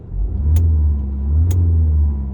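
A Peugeot 2008 Active's engine revs in sport mode, heard as a loud, close rumble that swells twice with the throttle and then eases back, with no talk.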